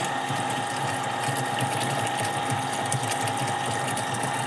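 Steady mechanical pumping and hiss of a hand pump sprayer applying AK-47 pesticide to vegetable plants in a gourd field, a continuous rattling drone with a faint liquid spray, close and even throughout with no talk.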